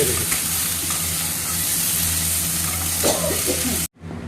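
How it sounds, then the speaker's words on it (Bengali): Vegetarian potato curry with turmeric bubbling and sizzling in a pan, a loud, dense continuous hiss and crackle that cuts off abruptly near the end. "এই যে এইবার দেখো এই টক টক করে ফুটছে"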